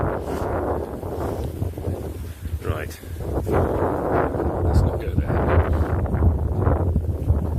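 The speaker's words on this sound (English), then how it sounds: "It's very windy" Gusty wind buffets the microphone in low rumbling surges, with a voice speaking briefly early on over the blustery roar.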